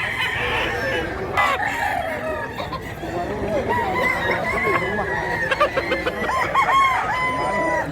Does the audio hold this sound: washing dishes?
no